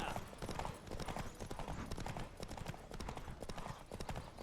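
A horse gallops in a race in The Witcher video game, its hooves drumming in a fast rhythmic clip-clop that runs steadily throughout, close and prominent, with brief voices in the game alongside.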